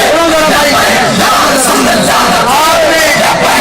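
A large crowd at a 2017 Tehreek-e-Labbaik sit-in rally in Faizabad roars a chanted slogan in unison, a loud, sustained wall of voices with rising yells.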